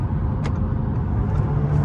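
A car on winter tyres accelerates hard in sport mode to overtake at around 90-120 km/h, heard from inside as a steady, loud engine and road drone that holds throughout without a break.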